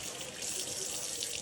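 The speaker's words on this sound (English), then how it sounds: "Let's make our hands wet again." Running tap water splashing into a sink as hands are wetted while making sourdough bread, a steady close rush with no talk.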